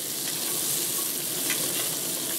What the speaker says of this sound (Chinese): 把我们的排骨下去一起翻炒